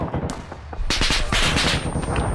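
Gunfire in the ARMA 3 video game: a few sharp, isolated shots ring out, followed by a loud, sustained burst of rapid automatic fire.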